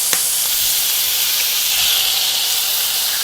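Egg hits a hot pan of nearly cooked pork for pineapple fried rice and sets off a loud, steady sizzling hiss that holds for a few seconds with no talking.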